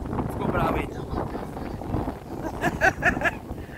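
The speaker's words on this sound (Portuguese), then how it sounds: "Ventania louca." Strong, wild wind gusts roar and buffet the microphone outdoors in Ceará, a continuous rumbling rush with voices talking over it.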